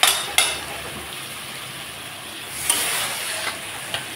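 Onion, tomato and green chilies sizzle steadily in a pan with a loud, even hiss, broken by a few scraping stirs and clinks of a utensil near the start and toward the end.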